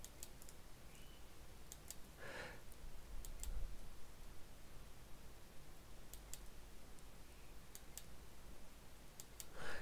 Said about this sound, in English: right click around the hole